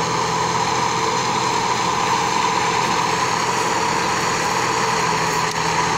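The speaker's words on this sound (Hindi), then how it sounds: "ओह परला ट्रैक्टर आ जी जा रहा" A small Massey Ferguson tractor stuck in a muddy field, its engine running with a steady, continuous low rumble and diesel drone, fairly close and unbroken throughout, with no voices.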